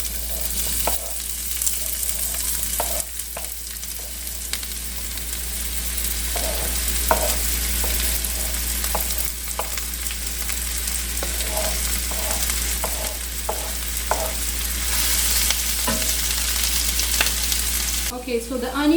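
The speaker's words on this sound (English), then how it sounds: "I'm going to start sauteing the onion until everything is golden and translucent" Chopped onion sautés in oil in a hot skillet, a steady close sizzle and crackle with intermittent scraping stirs throughout, and no voices.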